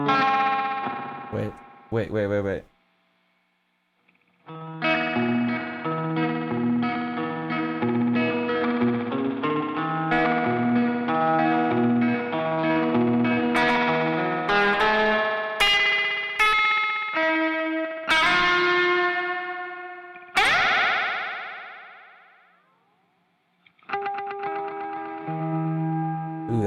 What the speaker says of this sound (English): here you go, guitar noodle